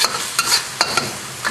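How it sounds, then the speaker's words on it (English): Lemongrass sizzles in a wok with sambal paste, giving a steady, close frying hiss punctuated by a few quick stirring scrapes. "I add some lemongrass, and I'm going to cook that until the lemongrass is fragrant."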